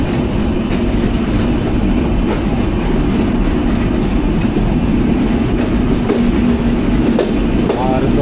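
The Shimanto Express train runs on rails toward Khulna, a loud, steady rumble with continuous wheel clatter, close and unbroken, as heard from on board.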